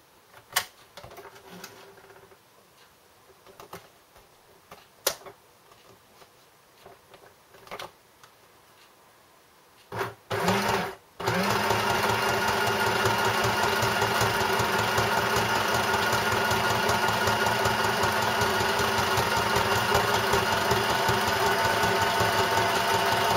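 A sewing machine runs steadily stitching a zigzag, a loud continuous whir through the second half after a few quiet clicks and handling sounds.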